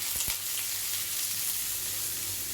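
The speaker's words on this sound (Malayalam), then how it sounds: "ഇഞ്ചി, വെളുത്തുള്ളി, പച്ചമുളക്, കറിവേപ്പില, സവാള എല്ലാം ഇട്ട് കൊടുക്കുകയാണ്" Ginger, garlic, green chilli, curry leaves and onion fry in oil with a continuous, even hiss and a couple of faint stirring knocks near the start, close but moderate in level.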